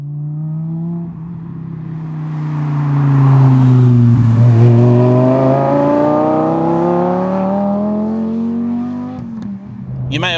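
Lamborghini Gallardo fitted with high-flow sports cats and a Quicksilver exhaust, its engine droning and rising through the revs under acceleration, loud and close, then easing off near the end.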